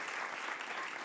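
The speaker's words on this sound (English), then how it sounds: "Oh, yeah, you can clap for that." Brief burst of audience clapping at an award show during a music festival, a dense, even patter that is fairly quiet and lasts about a second.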